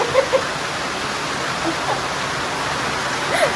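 Heavy rain pouring down during a storm, with water flooding into a house; a steady dense rushing hiss fills the clip, with faint voices and small knocks under it.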